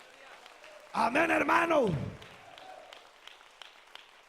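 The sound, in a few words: congregation applause in church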